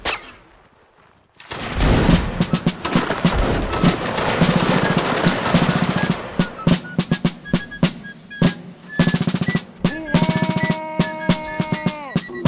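Massed musket volleys crackle in a Mount & Blade line battle, a dense rolling fusillade of overlapping shots that thins into scattered separate reports, loud and close.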